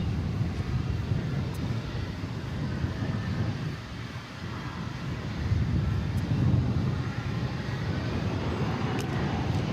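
An airliner takes off from runway 18 Left at DFW Airport at night, a broad low jet roar that dips briefly and then swells again, heard from a distance with wind noise over the microphone.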